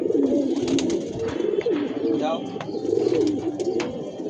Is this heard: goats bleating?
no